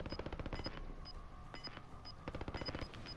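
Faint bursts of automatic gunfire from Call of Duty: Modern Warfare Warzone, a battle royale video game, crackle in quick, uneven volleys, sounding fairly distant with no speech.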